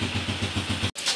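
A Honda TMX125 Alpha motorcycle engine idles after a tune-up with a rough, rattly, steady pulsing beat, close and loud, then cuts off abruptly near the end.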